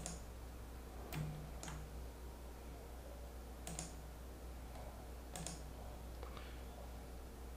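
Faint mouse clicks in a quiet room, several quick double clicks spaced a couple of seconds apart, with no talking.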